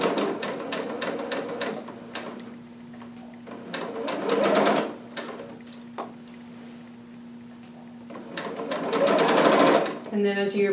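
A sewing machine stitches a bodice in short bursts with rapid mechanical ticking and a steady motor hum, and someone talks between and over the runs.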